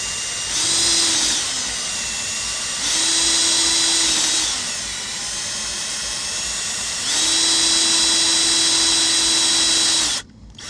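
A power drill countersinks screw holes in a cockpit hatch, running in three loud, close, high-pitched whining bursts with a slight pitch dip between them, then cutting off abruptly.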